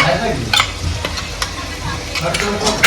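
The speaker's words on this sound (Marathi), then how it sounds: "आपण तयार केलेले वाटण त्यामध्ये टाकून मस्त असे तेल सुटेपर्यंत परतून घेऊयात." Ground masala paste for mutton sautéing in oil, a loud close sizzle with repeated scraping strokes of a spoon stirring against the pan.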